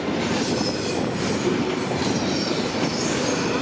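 A BNSF freight train at least two miles long, led by ES44AC, ES44DC and Dash locomotives, rolling steadily past, continuous rumble and rattle of wagons with high metallic wheel squeal, sustained and fairly close throughout.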